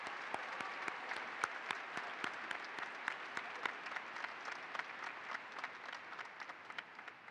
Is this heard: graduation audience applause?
yes